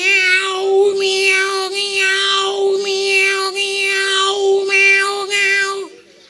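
A human voice imitating a cat, giving a run of about six drawn-out, tonal meows in a steady rhythm, loud and close, alone with no other sound, fading out at the end.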